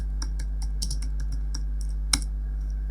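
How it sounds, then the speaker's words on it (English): Keys tap quickly on a Mac computer keyboard, a close, dry run of clicks in an irregular rhythm with one sharper stroke near the end, heard alone. "you need to just go ahead and type"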